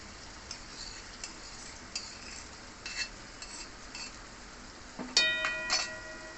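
Sliced onions added to a gravy in a pan, faint scattered stirring ticks and soft sizzle, ending in a louder clatter of utensil against pan.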